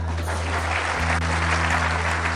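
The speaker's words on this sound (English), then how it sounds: "Clap." Audience applause at a leadership sermon, a dense, even roar of clapping hands sustained throughout over a low steady hum, moderately loud.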